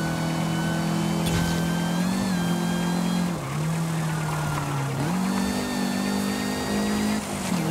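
Engine note of a Lancia 037 rally car, apparently supercharged, in the racing game Forza Horizon 5: a steady mid-pitched drone with shifting tones that dips twice as the throttle is lifted, loud and continuous with no speech.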